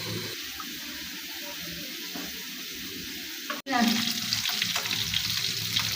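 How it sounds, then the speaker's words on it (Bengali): Pangas fish fry in oil, a close, steady sizzle with a brief cut midway, after which louder spitting and crackling follow. "ফাঙ্গাস মাছগুলো এখন তেলে ভাজি করতেছি"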